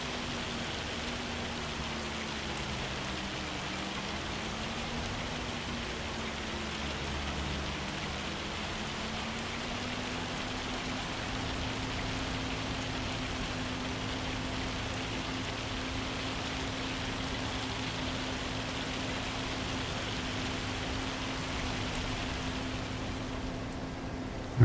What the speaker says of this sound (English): Past the eye, it's still raining though.